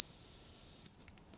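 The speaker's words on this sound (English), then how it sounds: "use a whistle for making a sound, and that can be a marker as well" A dog training whistle sounds a single sustained, very high-pitched tone, steady and loud, lasting under a second before cutting off into silence.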